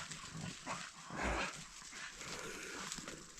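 A faint, quiet forest scene with a single distant dog bark partway through and soft rustling around it.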